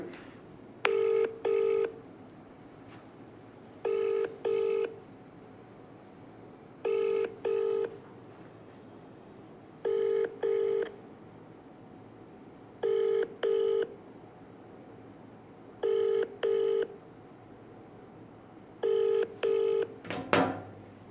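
A phone ringback tone repeats seven times, each a pair of short beeps at a steady pace, with quiet pauses between and no answer.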